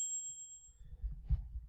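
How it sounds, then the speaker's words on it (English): A timer bell from an alarms sound-effect collection rings once with a bright, high ding that quickly fades, followed by faint low thumps. "Little things like the timer bell."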